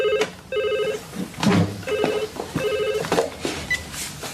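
A telephone rings in a TV soap scene, sounding in regular double bursts of a bright electronic trill, close and loud, with brief background sounds between the rings.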